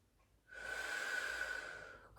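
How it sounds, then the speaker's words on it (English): One long, audible breath during a foam roller pilates class, close and fairly quiet, swelling in and out for about a second and a half with no talking over it. "Deep breaths in and out"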